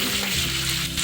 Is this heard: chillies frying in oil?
yes